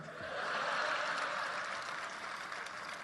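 An audience claps steadily in a dense, even patter that swells slightly and then eases off, with faint chuckles under it.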